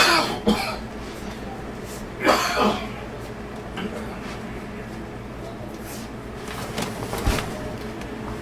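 Someone coughs and clears their throat several times in short bursts, with quieter room noise between them.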